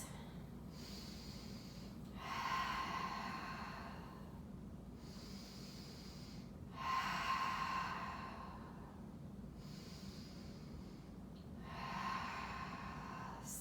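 Slow, deep breathing during a yoga hold, three long exhalations through the nose at regular intervals, soft and close over a low steady room hum.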